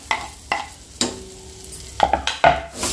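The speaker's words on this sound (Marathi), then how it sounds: "बटरमध्ये हलकासा फ्राय करून घेऊ" Finely chopped garlic frying lightly in melted butter for masala chaat, with a gentle sizzle broken by several sharp scraping stirs and clinks of a spoon in the pan.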